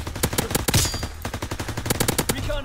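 An MP40 submachine gun in Call of Duty WW2 fires in rapid, loud automatic bursts, sharp rhythmic shots with a short break midway, up close and clear.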